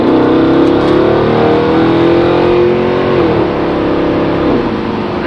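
A Mercedes C63 AMG with the P30 Performance pack revs loudly close by, its engine note climbing and holding before dropping back, then rising briefly again, with no talking.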